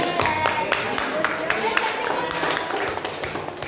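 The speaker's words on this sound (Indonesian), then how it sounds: "berikan tepuk tangan" A classroom group claps for students during a problem-based learning lesson: scattered, uneven hand claps at moderate level, mixed with voices talking.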